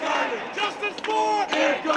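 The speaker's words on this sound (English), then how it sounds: "Angry crowds tonight in the streets of New York, protesting yet another controversial grand jury decision." An angry crowd of protesters chants and shouts in rhythmic bursts through New York streets after a grand jury decision, many voices blending at a moderate distance.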